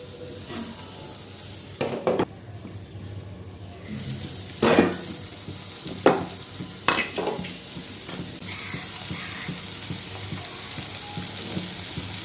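Soybean chunks fry in a pan as poppy seeds go in, making a continuous close sizzle with several sharp scrapes and knocks from stirring at irregular intervals.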